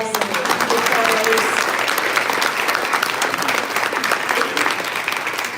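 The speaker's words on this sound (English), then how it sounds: "just so people can give you a round of applause" Sustained audience applause at a community coffee-and-conversation town hall, with dense, even clapping from a room full of people that carries on steadily without pause.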